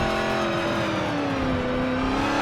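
A car in Forza Motorsport 7, driven with a Logitech G29 wheel, drones loudly and steadily as its engine pitch slowly sags and then climbs again, with no talking.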